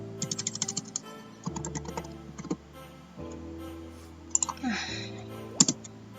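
Someone types on a computer keyboard while running queries in MySQL Workbench, making quick bursts of soft key clicks with short pauses between them, close and fairly quiet.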